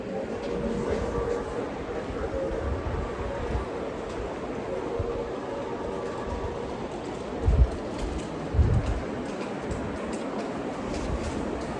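A train rumbles steadily in the distance with a low rolling drone and a couple of heavier thumps, muffled and moderately faint.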